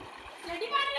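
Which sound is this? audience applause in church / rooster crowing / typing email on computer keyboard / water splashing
water splashing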